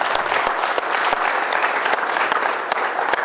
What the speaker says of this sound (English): So let's give a round of applause for that.